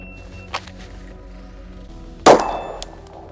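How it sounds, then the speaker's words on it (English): A stock Glock handgun fires a single sharp, loud shot from about 25 yards, drawn from a concealed holster, followed by a brief ringing decay, with a faint click beforehand and quiet surroundings. "We are going to shoot from approximately 25 yards from the concealed holster and gauge our results"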